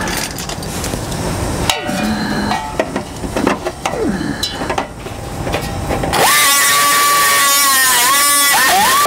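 A die grinder with a rasp bit enlarges holes in metal during a hitch install on a 2007 Ford Escape Hybrid: irregular scraping and knocks at first, then a loud, sustained high whine as the tool runs steadily.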